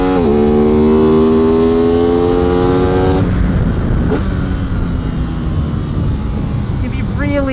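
An Aprilia RS660 motorcycle revs hard on a race track, its engine note climbing steadily and then dropping as the rider shifts gears. It is loud and close, with wind roar, and a rider's voice can be heard over it.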